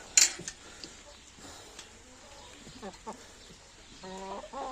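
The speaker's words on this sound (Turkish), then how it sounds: "Tavuklarımızı da gösterelim arkadaşlar." Several breeding hens cluck in short, irregular bursts at close range, with soft rustling and barnyard background noise between calls.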